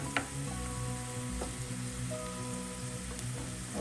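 Turmeric, Kashmiri chilli powder and other ground spices sizzling as they fry in oil for bhindi masala, a steady close crackling hiss with a few sharp pops and light stirring.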